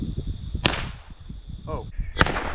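Two sharp .22 Long Rifle gunshots fired at a Sergeant Silverback toy, a single crack near the start and another near the end, each short and loud over outdoor background noise.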